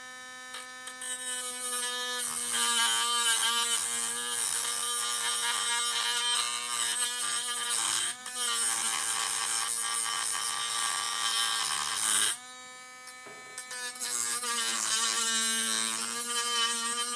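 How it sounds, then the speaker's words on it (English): A Dremel rotary tool grinds a hardened piece on the front end of an XTM Nitro X-Cellerator RC car, a sustained high whine that wavers in pitch and briefly dips twice. "This is like some kind of hardened piece over here, actually. It's not that easy to Dremel."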